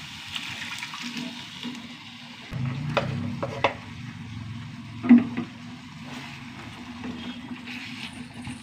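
Cooked ingredients poured from a pot into ground masala paste and stirred for a Kerala-style curry, giving a soft sloshing pour and wet scraping stirs with a few sharper clinks of utensil on vessel, close by and fairly quiet.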